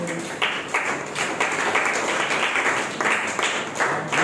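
Church congregation at a Sunday worship service applauding, a steady wash of many hands clapping with rhythmic swells, moderately loud and continuous.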